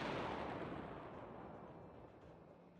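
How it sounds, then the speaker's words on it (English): A single explosion in a video game booms at the start, then its rumble decays slowly over a few seconds, quiet overall and with no other sounds. "preventing the explosion from affecting its synchronized senses"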